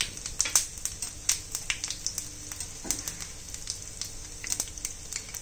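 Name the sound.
cumin seeds, asafoetida sizzling in hot oil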